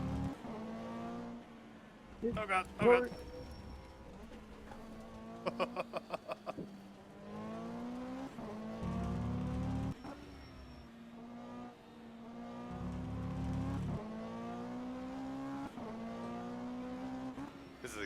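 A GT3 race car at Valencia in rFactor 2 revs hard through a series of rising gear-shift sweeps, with rattling bursts over the kerbs and a short exclamation from the driver.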